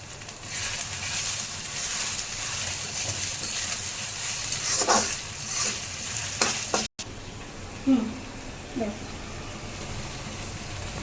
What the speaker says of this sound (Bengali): সব মশলা দিয়ে সুন্দর মতো আগে কষাবো